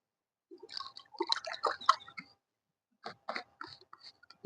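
Water sipped and gulped to wash down a tablet, a few close, wet swallowing and mouth sounds in two short bursts with a pause between, no talking.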